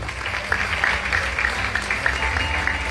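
Applause for Frère Luxon at a school promotion ceremony, a steady wash of many hands clapping with a crowd murmur beneath it, continuous and fairly even in loudness throughout.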